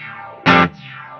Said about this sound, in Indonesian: Ini dua overdrive nyala ya lo.